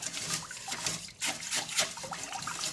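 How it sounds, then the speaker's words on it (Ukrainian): Water trickles and splashes steadily while rice is rinsed in a kitchen, a close, soft wet swishing with no voices. "промиваємо весь рис"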